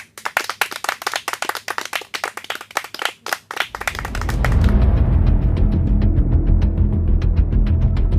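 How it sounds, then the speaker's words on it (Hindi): Audience clapping in welcome at a village wrestling event: sharp, scattered individual claps at first, then building into dense, loud, sustained applause. "तो इनका तालियों से स्वागत किया जाए।"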